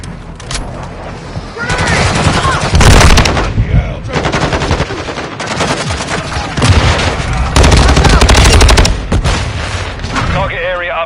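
Heavy, sustained automatic gunfire from Call of Duty Modern Warfare 2 on PS5, loud and dense bursts with booming shots and battlefield clatter, under occasional in-game voices.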